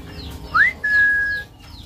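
A sun conure hen in a small home aviary gives a short rising whistle, then a longer sustained high whistle, clear and fairly close against a quiet background.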